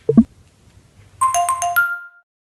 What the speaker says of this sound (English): I'm going to FaceTime him on my mobile.